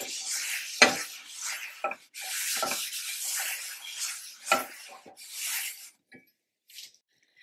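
Oil is rubbed by hand into a new HexClad hybrid pan to season it, producing close, papery swishing strokes in repeated bursts with brief thumps and short pauses, fading to near quiet at the end.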